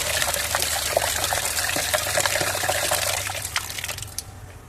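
Water is poured into a container to dilute fermented kitchen waste, producing a steady, close gushing splash that runs for several seconds and then tapers off near the end.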